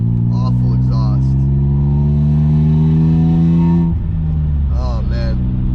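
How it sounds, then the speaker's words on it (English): A BMW E36 328is fitted with Chevy mufflers gives a loud, raspy exhaust note as it revs up and holds a rising pitch, then drops back, with someone talking over the start and end. "there you can hear that awful exhaust"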